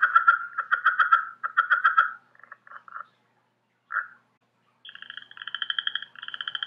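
Southern Leopard Frog calling alone in a quiet setting: a rapid series of rattling, chuckling croaks in bursts, a few isolated clucks, then a stretched, squeaky rubbery call at the end, close and clear.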